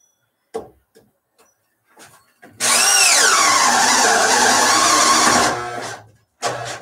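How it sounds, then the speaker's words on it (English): A power drill runs for about three seconds, whining loudly with a wavering pitch, close and alone, framed by scattered clicks and knocks before and after. "I think I need a better drill."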